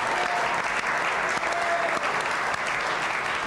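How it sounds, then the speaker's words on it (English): Studio audience applause at a live TV quiz show greets a contestant, a steady, loud wash of clapping that holds throughout. "Give him a big round of applause."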